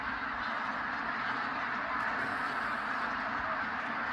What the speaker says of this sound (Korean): 철새들이 갑자기 저녁때 되니까 나타났습니다. 엄청나게 시끄럽습니다.